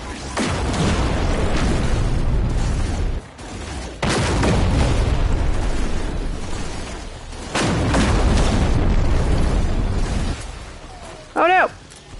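Gunfire and explosive booms from No Man's Sky ring out in long, loud sustained bursts, three big blasts separated by short gaps, with a brief tonal warble near the end.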